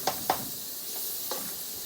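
Onions and other vegetables cooking in a pan in a tiny cabin kitchen for seafood gumbo, a soft continuous sizzle broken by a few sharp clinks of a utensil against the pan.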